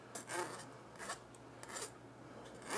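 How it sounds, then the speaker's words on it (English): Raspy scraping of tomato pulp off the bottom of a strainer while making homemade ketchup, several short rubbing strokes close up and fairly quiet, with no talking. "you're just going to scrape off the bottom of the strainer"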